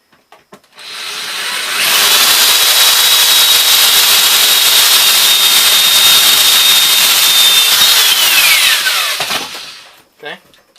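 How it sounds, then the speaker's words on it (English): A power drill with a 3/16 bit drills out a 3/16 rivet on a flight case: a loud, close, steady high whine lasting about eight seconds that sags in pitch as the bit breaks through, then stops. "so I'm going to take a 3/16 drill bit"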